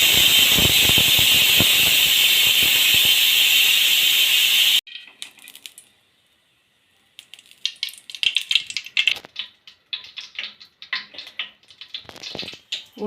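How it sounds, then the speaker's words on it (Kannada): A pressure cooker with soaked chana dal and turmeric water lets out a loud, sustained hissing whistle for about five seconds that cuts off abruptly, followed by quieter intermittent clinks and rattles. "ಒಂದು ಚೊಂಬು ನೀರು ಮತ್ತು ಒಂದು ಸ್ವಲ್ಪ ಅರಶಿನ ಹಾಕಿ 3 ರಿಂದ 4 ವಿಷಲ್ ಕೂಗಿಸ್ಕೊಳ್ಳಿ"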